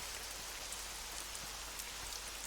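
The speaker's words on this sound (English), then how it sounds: "Nice, quiet ambiance. Just the rain falling on my head." Rain falls steadily in the fantasy video game Neverwinter Nights, a soft, even hiss of drops on surfaces that stays faint and unbroken, with no voices.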